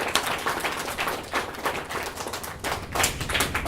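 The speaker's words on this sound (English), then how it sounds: "I think that's applause" Applause from an audience at a live interview event with open-water swimmer Diana Nyad, a dense, steady patter of claps that swells and dips slightly across a few seconds, fairly close and with no talking over it.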